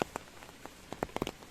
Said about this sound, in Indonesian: wah hujan juga